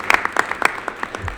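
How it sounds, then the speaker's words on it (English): Clapping at a school board of education meeting during an awards presentation, a short burst of separate, fairly close claps in an uneven rhythm. "one more round of applause"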